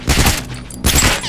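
Rifle gunfire in The Last of Us multiplayer, two loud close bursts of shots about a second apart, each ending in a short rumbling tail, with no talking.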